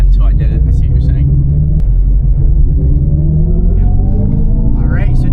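A 2025 Dodge Charger EV pulling away from inside the cabin, with a steady, heavy low rumble throughout and people talking over it.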